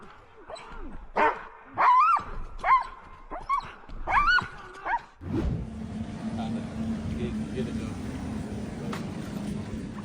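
Several sled dogs bark and yip in short, excited bursts, followed by a steady rushing, rumbling noise like a runaway dog sled moving over snow.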